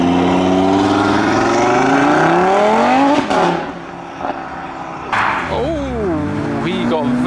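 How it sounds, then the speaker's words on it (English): A car rolls past at a night car meet, its engine note rising and falling close by, under steady crowd chatter and voices throughout. "A car driving about with loads of Christmas lights on top."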